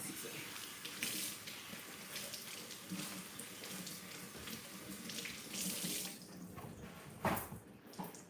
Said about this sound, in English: So let me rinse this off.